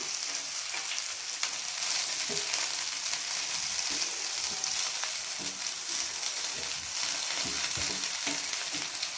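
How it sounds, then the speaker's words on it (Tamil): Manathakkali greens sautéing in a pan for keerai thuvaiyal give a steady, close sizzle with scattered clicks and scrapes of stirring throughout, no voices. "இதை நம்ம ஒரு 2 நிமிஷத்துக்கு மட்டும் வதக்கிக்கலாம்"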